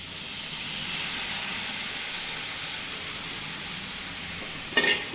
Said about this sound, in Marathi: ह्याच्यामध्ये मी हे हिरवे मोड आलेले मूग टाकते